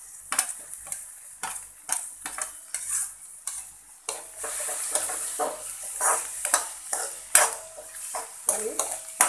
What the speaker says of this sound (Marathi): आणि छान एकजीव करून घ्यायचं, परतून घ्यायचं.